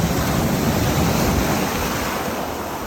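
Steady broadband roar of ocean surf breaking on a beach during flounder fishing, continuous and fairly loud with wind buffeting the microphone, no talk.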